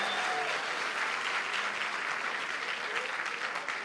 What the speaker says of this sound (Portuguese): Dê uma the salva de most palmas para important Jesus